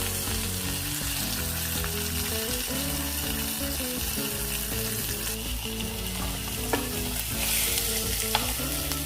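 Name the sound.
pork loin searing in a pan on all sides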